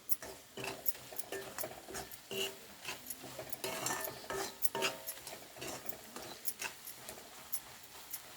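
Egg biryani being stirred with masala in a pan, a steady run of soft scraping and clinking strokes from a utensil against metal, close and fairly quiet, with no talking.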